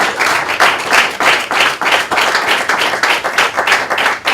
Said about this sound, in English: Please help me to clap for them.